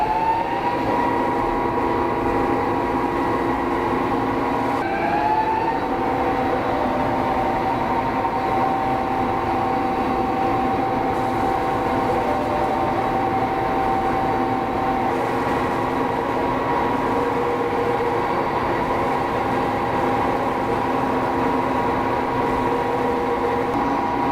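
A CNC lathe spindle runs while cutting threads, giving a steady machine whine with sustained tones that shift in pitch partway through, heard alone with no talking.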